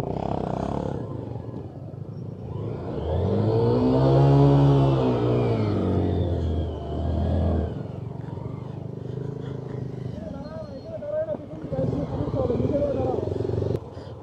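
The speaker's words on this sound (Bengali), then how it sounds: "পিলিয়ন সহ এগুলো বালুর রোডে রাইড করা খুব কষ্টকর" A motorcycle carrying a pillion passenger on a sandy village road near Dinajpur, engine revving and labouring loudly and close, with a rising roar in the middle and people talking over it.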